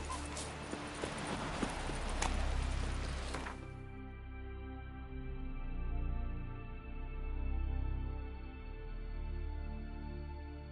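Roach, the horse in The Witcher 3, with hooves clip-clopping in a steady rhythm under quiet game music, after a brief burst of louder noise at the start.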